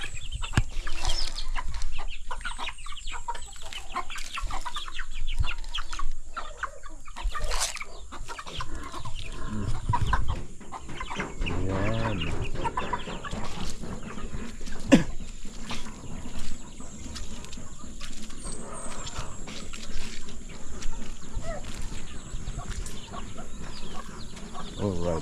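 Chicks and chickens clucking and peeping close by, with repeated bursts of clucks over about twenty-five seconds, mixed with people talking and some background noise.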